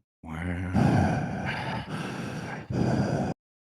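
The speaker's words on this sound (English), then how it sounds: "Just heavy breathing." Heavy, labored breaths in close succession, loud and near, with a voiced groaning quality on each exhale and brief pauses between.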